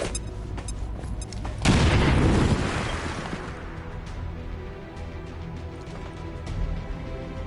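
A grenade blast in the video game XCOM 2, a sudden loud boom that rolls into a long crackling, fading rumble, with no voices over it.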